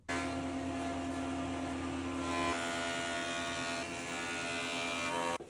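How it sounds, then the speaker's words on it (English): A thickness planer feeds a walnut board with a loud, steady machine whine and roar, the tone shifting partway through as the cut changes, running continuously without voices. "Off to the planer."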